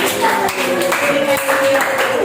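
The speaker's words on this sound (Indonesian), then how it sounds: "Kasih tepuk tangan untuk Ryan." A classroom of students claps for a classmate named Ryan, a close, lively patter of handclaps mixed with voices and cheering throughout.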